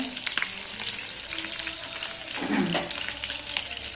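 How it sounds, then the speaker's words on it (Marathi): Garlic sautéing in a pan, a steady close sizzle and crackle with a brief stirring scrape partway through, no voices over it. "लसूण, आता हे चांगलं हे परतवून द्यायचं आहे."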